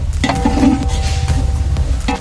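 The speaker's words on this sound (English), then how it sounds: "Let this masala cook for some." Masala of turmeric and cumin powder for a large chicken biryani cooking in a pot, giving a steady close sizzle with stirring scrapes and a few pot clinks, no talk.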